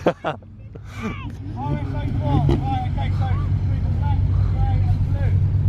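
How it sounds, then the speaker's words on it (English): Audi cars at a large Audi enthusiast gathering rev their engines together, a loud, swelling rumble with rising and falling tones layered over nearby crowd chatter. "one person revs and now everyone's revving"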